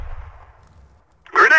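A flashbang grenade goes off in a video game: a low muffled thump fades out, followed by a short, loud, sharp burst at the end.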